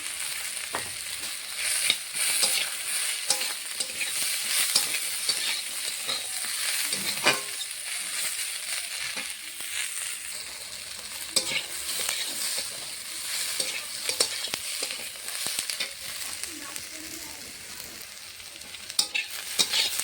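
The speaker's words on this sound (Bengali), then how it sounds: "উচ্ছে আর আলুটা হালকা লাল লাল হয়ে গেছে, এখন পেঁয়াজ কুচিটা দিয়ে দেবো।" Chopped onion fries with bitter gourd and potato in a pan, a continuous bright sizzle broken by repeated scraping stirs, close and steady for the full length, with no talking.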